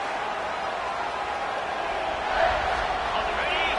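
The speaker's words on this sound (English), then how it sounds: "This crowd rising up, sensing that its defense needs some help" A stadium crowd in a college football video game roars as a steady, broad wash of noise that swells slightly partway through, heard from a distance with a commentator's voice over it.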